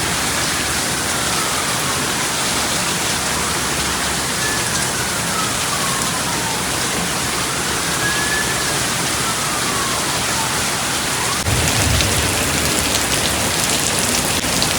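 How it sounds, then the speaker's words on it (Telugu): Heavy rain pours steadily onto surfaces as a dense, continuous hiss, loud and close, with a brief low thump near the end and no voices. "ఎంత హెవీగా రెయిన్ పడుతుందో నెక్స్ట్ క్లిప్పింగ్లో మీకు చూపిస్తాను, చూసేయండి."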